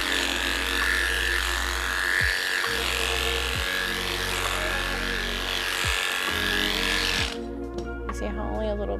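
Electric dog clippers lightly skimming the long hair on a doodle's leg, a steady close buzzing hum with a faint tonal whine, briefly dipping in pitch as the blade glides, ending in handling noise.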